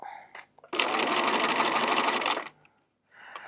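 A sewing machine stitches a quilt block for an embellished block, running in one steady burst of almost two seconds, with a brief voice and faint handling sounds before and after.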